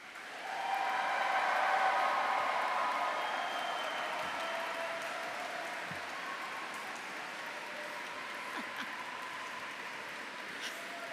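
A graduation ceremony audience in Canterbury Cathedral breaks into sustained applause, a broad, even wash of clapping that rises quickly and carries on for about ten seconds, echoing in the large hall.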